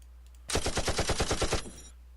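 Rapid burst of automatic gunfire from a stock demo sound-effects library, about a dozen evenly spaced loud shots in under a second and a half, followed by a short fading tail with no talking.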